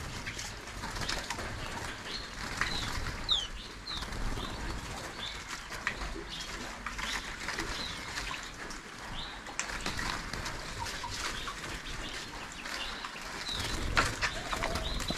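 Caged pet birds flutter their wings and call, with soft cooing and scattered chirps over a continuous background rustle, fairly close and with no speech.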